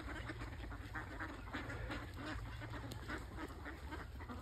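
Young ducks on a shoot estate quack continuously while feeding, a busy, overlapping flock chatter close by with steady background noise and no talking.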